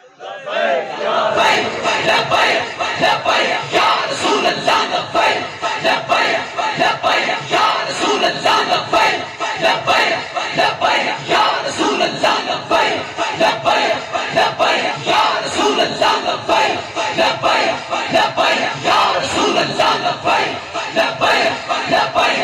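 A large crowd at an Islamic religious gathering chants Nara-e-Takbeer and other slogans in loud, continuous unison, with rhythmic repeated shouts filling the whole stretch.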